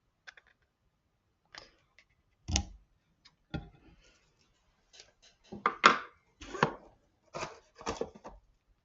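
Paper being cut for a handmade card, a series of short crisp snips and clicks, sparse at first and then closer together, near and quiet.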